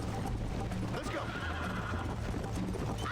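A horse whinnies loudly while hooves clip-clop at a steady gallop in the Red Dead Redemption video game, with faint mechanical clicks behind.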